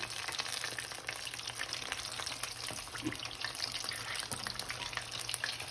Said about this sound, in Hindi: इसको अच्छे से फ्राई कर लेते हैं।